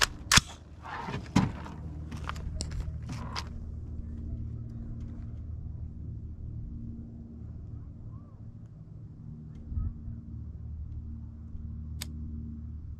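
A 5.56 rifle shot fired outdoors into a stack of copper plates: a single sharp, loud crack near the start, then a second, fainter bang, over steady low background rumble and brief voices.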